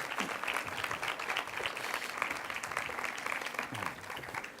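Sustained applause from a conference audience welcoming Dr. Llogari Pujol to the first lecture of the morning, a dense steady patter of many hands that holds evenly throughout and tapers slightly at the end.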